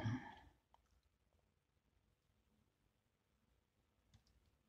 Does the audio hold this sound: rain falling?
no